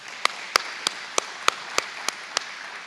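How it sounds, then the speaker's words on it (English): Sparse, evenly spaced hand claps ring out one by one from a community audience at a memorial tribute, about eight sharp, fairly close claps with a steady rhythm and no voices. "I think they deserve another round of applause."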